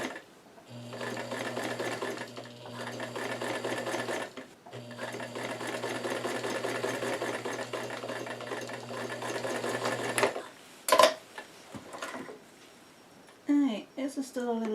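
A sewing machine with a 3/16-inch presser foot stitches thick fabric for a newsboy cap. Its steady motor whir runs in two long stretches with a short pause between them, then gives way to a few brief noises at the end.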